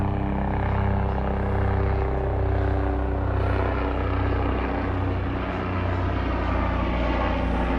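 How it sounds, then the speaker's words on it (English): A helicopter passes overhead a garden hillside, its steady droning rotor and engine rumble loud and continuous throughout, with no speech. "I'm going to get a little buzz here from a helicopter"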